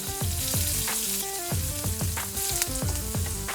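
Jerk-marinated shrimp fry in a hot pan, giving a loud, continuous sizzle with crackling bursts throughout and no voices.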